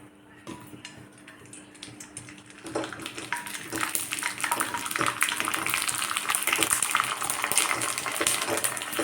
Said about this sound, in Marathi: आता आपल्याला पापड तळून घ्यायचे आहेत